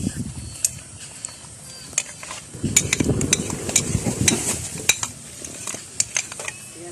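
Peanut butter is stirred into a seafood kare-kare of crabs, shrimp and mussels, giving a bubbling sizzle and a run of clinking, scraping utensil strokes against the pot, close up with an irregular rhythm.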